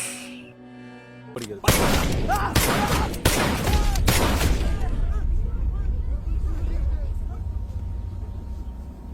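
Several sharp, loud pistol shots crack in quick succession in a film scene, followed by a lingering rumble and background commotion with indistinct voices.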